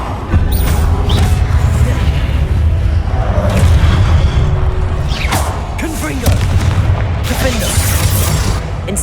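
Confringo fire spell in Hogwarts Legacy, loud booming explosive blasts and crackling bursts repeating through dense combat noise, with a voice talking intermittently over the action.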